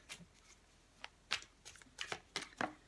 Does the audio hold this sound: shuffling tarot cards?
yes